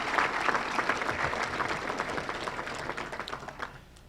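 Audience at a Winston Salem BLET class graduation ceremony applauding staff: a few seconds of dense, even clapping from a moderately distant crowd that thins and fades out at the end.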